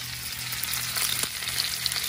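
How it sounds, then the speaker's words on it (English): Ground beef and Italian sausage sizzle steadily in a pan, a close, continuous frying crackle with small pops throughout. "our ground meat and I'm going to break it down. I'm gonna let it cook for about 7 minutes"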